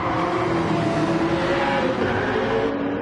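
Race cars in the Gran Turismo 7 video game, including a Ford GT, a BMW and a Skyline, give a steady, loud engine drone with sustained tonal whine, continuous and close.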